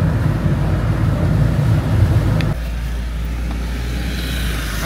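A car drives through rain on the road toward Lonavala, giving a loud, steady low engine and road rumble with rain hiss, which drops to a quieter, smoother drone halfway through.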